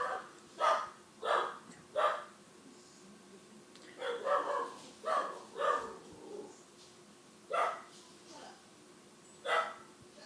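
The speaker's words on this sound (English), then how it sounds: "That was my dog." A dog barks repeatedly in short bursts, fairly close, with steady background noise throughout.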